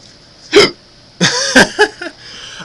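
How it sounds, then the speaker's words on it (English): A man hiccups several times up close, with abrupt, irregularly spaced short bursts and some breathy sounds between them. "I apologize right now because I have the hiccups."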